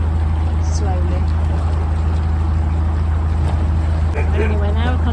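Steady low drone of a narrowboat engine held at constant revs while the hull grinds and crunches through a sheet of ice, with scraping water noise and brief squeaks throughout.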